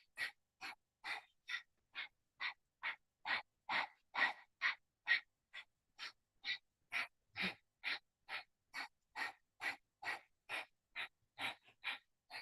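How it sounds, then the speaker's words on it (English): Breath of fire in a Kundalini yoga kriya: about two dozen sharp, evenly spaced nasal exhalations, roughly two per second, close and clear against otherwise silent surroundings. "Press through those palms and breath of fire."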